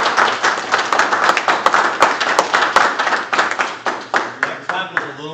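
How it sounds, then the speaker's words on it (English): Applause from a small audience at a St. Robert, Missouri aldermen meeting after a proclamation for the Army's 250th birthday: close, loud hand clapping that gradually thins into separate claps as it winds down. "That clap was a little bit harder for you"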